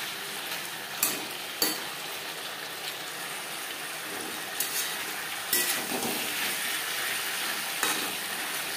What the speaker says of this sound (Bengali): হাই ফ্লেমে আরও 2-3 মিনিট নাড়াচাড়া করে নেব